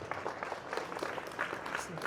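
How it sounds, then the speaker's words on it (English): An audience at a city address event claps in a brief, moderate round of applause, steady and close, with speech mixed in. "Let's give you a big round of applause."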